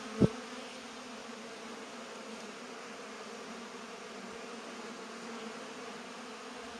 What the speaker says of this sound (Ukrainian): Обліт бджіл.